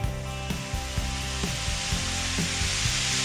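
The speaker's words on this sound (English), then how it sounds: "add some of your Belgian beer to the pan that you used to cook the onions and the meat" Belgian beer poured into a hot pan used to cook onions and meat sizzles steadily and loudly, with a constant hiss and faint clinks of stirring.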